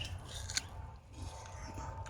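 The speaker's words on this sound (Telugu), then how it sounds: "వాటర్ యాపిల్ అయితే తింటున్నాం మేమైతే" Someone bites and chews a water apple in a fruit orchard, faint crisp crunches with one sharper bite, close and quiet.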